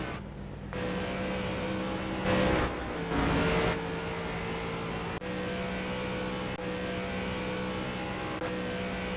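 An ARCA stock car on the Chicagoland oval in iRacing drones with a steady engine tone, swelling twice as the throttle is pushed harder, then holding a constant roar to the end.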